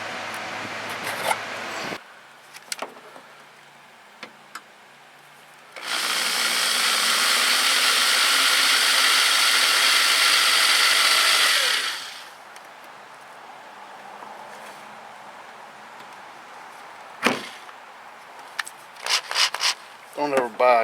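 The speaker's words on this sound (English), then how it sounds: "we'll just take it on over and do the drilling" A power drill with a chuck bores through a trailer frame for a bolt on a Quest Angler 10 and Carry On trailer. The drilling comes as one loud, steady, continuous grinding burst of about six seconds, with quiet handling noises before and after.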